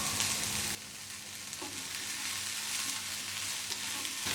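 Curry leaves, onions and green chilies frying in oil make a steady, moderately loud sizzle, with a sudden drop in intensity as they are added, then continued bubbling.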